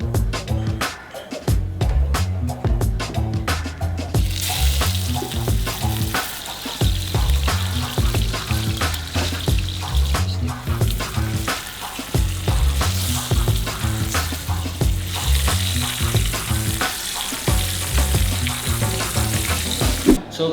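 Steady, dense sizzling of beef searing in a hot frying pan, continuous and fairly loud throughout with no talking.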